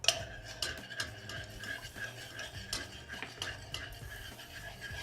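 Worcestershire sauce mixture with mustard powder and black pepper being stirred in a pan on the heat, a steady scraping and clinking of utensil against metal with small rhythmic knocks, close and moderately loud, no talking.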